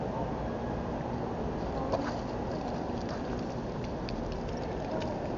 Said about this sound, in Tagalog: Ayan po yung pagdidilig na tamang-tama